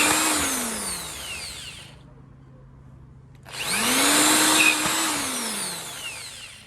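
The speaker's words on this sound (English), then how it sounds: "Just need to get that drilled." Power drill boring screw holes through a plate, two loud sustained bursts of whining motor and grinding bit separated by a brief quiet pause, with pitch sweeping as the drill spins up and slows.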